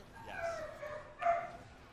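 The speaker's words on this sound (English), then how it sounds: "You hear the dog barking?" An excited dog gives two short, fairly faint yelping barks about a second apart, with a quiet background.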